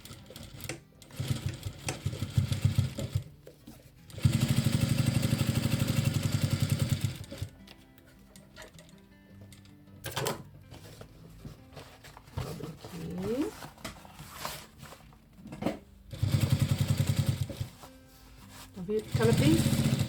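A sewing machine stitches and backstitches a pocket onto a croco tote bag in loud whirring runs of a few seconds each, broken by pauses with fabric handling, while someone speaks Portuguese in between.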